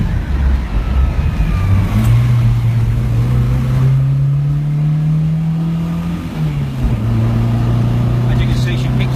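A red 1971 MG BGT classic sports car driving and accelerating around a corner, its engine droning steadily and rising in pitch with a gear change partway through, loud and close, with someone speaking over it at times.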